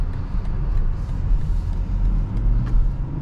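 A 2024 BMW X7 40i in comfort mode pulls away gently, heard from inside as a steady low engine and road rumble without any sharp revving.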